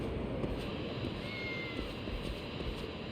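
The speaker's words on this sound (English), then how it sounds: "Oh, cat!" In the video game Lost Judgment, a cat meows faintly somewhere off in an outdoor street scene, buried under a steady background ambience.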